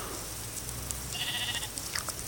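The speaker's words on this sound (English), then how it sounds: "You hear that sheep?" A sheep bleats in Minecraft a couple of times over a steady background hum, with short high chirps scattered through the scene.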